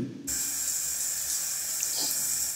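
A household faucet turns on and runs in a steady, continuous rushing stream, close and fairly loud, with no talking over it.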